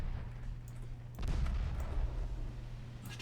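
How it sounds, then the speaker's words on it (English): A torpedo detonates against a ship during a naval battle in the warship game Ultimate Admiral Dreadnoughts, a single deep booming blast with a rumbling tail over a steady low engine-like drone. "Torpedo detonation."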